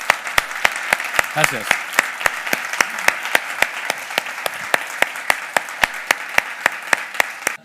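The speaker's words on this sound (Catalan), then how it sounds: "un fort aplaudiment per tots ells" Audience applause at a rare diseases awareness event, a steady wash of clapping with a few sharp, loud claps standing out in a regular rhythm, and a brief spoken word partway through.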